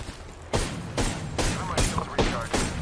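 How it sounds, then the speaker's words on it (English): Bursts of gunfire in the video game Apex Legends come in five or six evenly spaced rapid volleys, close and fairly loud, with little else beneath them. "everyone's shooting at me already."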